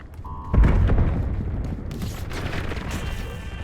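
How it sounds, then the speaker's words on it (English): A flashbang grenade goes off in Call of Duty Black Ops 7, a sudden heavy boom followed by a sustained ringing, hissing wash of noise that lingers for several seconds. "Incoming flashbang."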